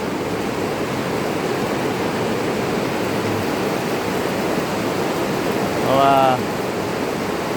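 Heavy rain pours steadily during a storm in Thailand, a dense continuous wash of noise with a brief voice speaking near the end.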